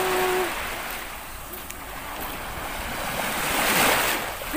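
Sea waves wash steadily onto a beach, a continuous close roar of surf mixed with gusting wind on the microphone, with no clear voices over it.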